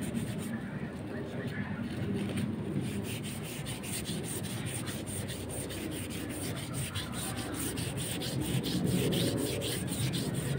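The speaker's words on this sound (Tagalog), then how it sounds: "Lihain ko ngayon." Hand sanding a piece of wood, a steady rapid back-and-forth rasping scrape that runs continuously, close and moderately loud.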